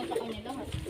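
Pigeons coo softly in a short, low burble, fairly close and faint, with a little speech mixed in.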